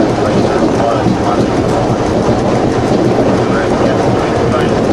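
A passenger train running through stations without stopping, a loud steady rumble and rattle that stays constant throughout, close and dense.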